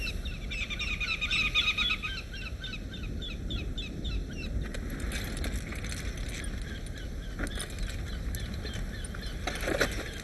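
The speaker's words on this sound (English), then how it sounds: "It looks to me like we've got a pair with a youngster, and there's all sorts of interactions going on between the three of them. Very, very vocal birds." Calls from a pair of adult birds and their youngster on a cliff face in Guyana, with repeated honking, goose-like notes densest early on, then sparser cries over steady forest ambience.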